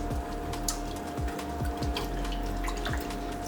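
Cold tap water runs steadily while a curly synthetic wig is rinsed of suds in a sink, a constant close splashing wash with a faint mechanical hum beneath and no voices.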